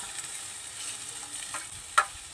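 Onion and ginger paste frying in a pan in a small mini kitchen, a soft steady sizzle with a faint stir or scrape near the end, close and quiet.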